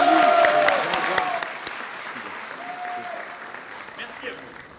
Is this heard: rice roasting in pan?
no